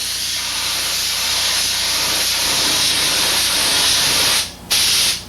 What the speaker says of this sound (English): you can start spraying another wet coat.